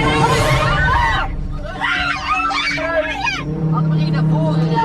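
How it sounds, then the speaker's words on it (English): Tourists shriek in terror inside a car as it pulls away from a giant animal, high frantic screams overlapping with Dutch shouting over a steady engine rumble. "screams of terror can be heard coming from the tourists as they proceed to drive away"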